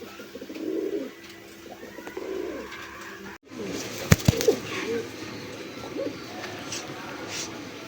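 A pair of Jed spring pigeons coo in soft, repeated low phrases at close range, with some faint chatter and a few sharp knocks in the background.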